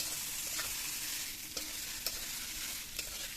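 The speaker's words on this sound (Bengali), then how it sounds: "পেঁয়াজটা আমি লাল লাল করে একটু ভেজে নেব" Onions frying in a pan for a meat curry make a continuous, soft hiss of sizzling, broken by light spatula scrapes as they are stirred. No voices.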